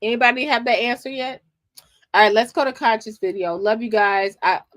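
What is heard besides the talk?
No everyday noises stand out.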